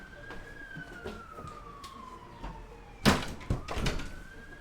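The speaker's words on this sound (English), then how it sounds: "as some sirens are going by" Emergency sirens passing outside a room, faint and distant, their wailing pitch sliding steadily downward, with a few sharp knocks and clatters nearby toward the end.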